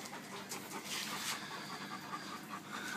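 Two black dogs, a black lab and a Dalmatian mix, pant steadily and rapidly out of fear during a thunderstorm, a close, continuous breathy rhythm filling the whole stretch without talk.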